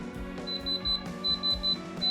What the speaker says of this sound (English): the moment I measure this, it needs to turn into yellow or red and beep